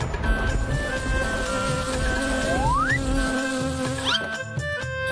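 A cartoon sound effect of a buzzing grasshopper, a continuous insect-like drone over a low rumble with a rising whistle-like sweep partway through and a short burst of noise near the end.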